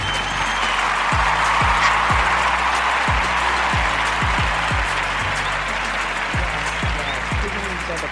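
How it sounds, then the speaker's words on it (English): Audience applause, a steady wash of clapping from a crowd sustained throughout, with occasional low thumps underneath. "everyone give yourself a round of applause for just being you today"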